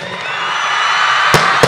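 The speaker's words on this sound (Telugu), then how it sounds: "మీ అరుపులు కేకలు వింటా అంటే" A crowd roars with shouts and cheers at a trailer launch event for Vijay Deverakonda's film Kingdom, a dense, steady wall of voices. Two sharp bangs burst out near the end.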